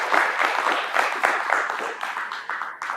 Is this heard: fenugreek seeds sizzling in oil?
no